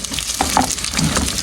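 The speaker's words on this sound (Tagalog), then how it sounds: "Pinrito bago sinabawan." Food frying in a pan, with a steady sizzle and occasional crackles and stirring scrapes, close and fairly loud with no talking.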